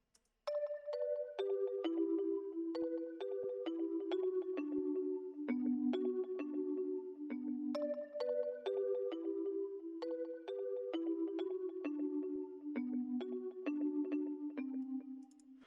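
Dry one-shot sample in FL Studio, unprocessed and without effects: a bright, bell-like melodic phrase of descending plucked tones, repeating as a looping pattern, steady and loud with no voices.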